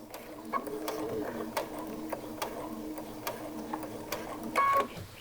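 A domestic sewing machine stitches across a zipper, running in a soft, even mechanical whir with small ticks and a few brief pauses, quiet and close, with no one talking.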